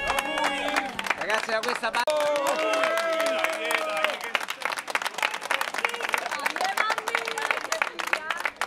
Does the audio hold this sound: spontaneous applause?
yes